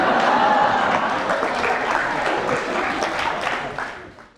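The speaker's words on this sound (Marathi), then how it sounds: "तुम्ही मस्करीत टाळ्या वाजवत आहात की मला सपोर्ट करत आहात" A studio audience breaks into loud, sustained applause at a courtroom-style celebrity interview show, dense clapping that slowly fades toward the end.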